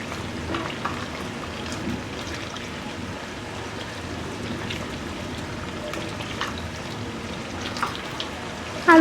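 A potato and pointed gourd curry simmers in a pan while being stirred, producing a soft, even bubbling sizzle with light clicks of utensil against the pan, nearby and without talk.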